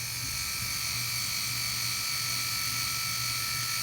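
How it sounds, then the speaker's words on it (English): The flip-out beard trimmer on a Dynabliss DBS220 wet and dry electric shaver runs continuously up close, a steady high-pitched buzzing whine that stays level throughout, with no voices. "And then on the back, a flip out beard trimmer shaver."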